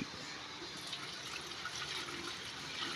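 Steady rushing water runs continuously at close range, a broad hiss like liquid pouring or filling a container, with no talk over it.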